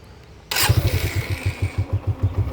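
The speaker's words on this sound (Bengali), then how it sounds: "এক সেলফে কিন্তু স্টার্ট হয়ে গেছে দেখেন।" A nearly new, showroom-condition 2025 motorcycle with about 6,000 km on it fires up on its electric self-start after a brief crank, then settles into a close, even, thumping idle.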